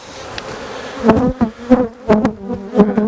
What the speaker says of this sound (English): Gently encourage these bees on the edge to get out of the way so we don't crush any of them.